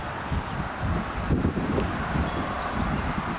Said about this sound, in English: It's a little windy, sorry.